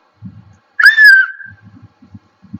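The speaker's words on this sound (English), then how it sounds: "that's a whistle" A single loud whistle blast rises sharply and then holds for about half a second, with faint low knocks just before and after it.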